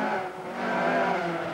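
An Audi rally car on a slippery Scottish forest stage in 1982 gives a short burst of high engine revving, fairly loud and sustained, with no voices.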